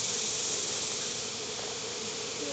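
Honey bees drone at an open hive after being given sugar, producing a steady, faint, hissing buzz that holds evenly throughout without any talk.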